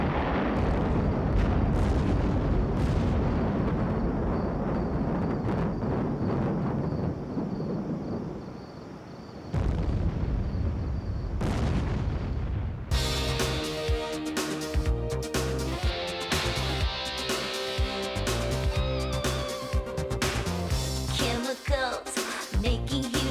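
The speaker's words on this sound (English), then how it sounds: "Chemicals making huge explosions." Deep roaring chemical-reaction explosions and rumbling bursts, loud and dense, giving way partway through to music with continuing booms.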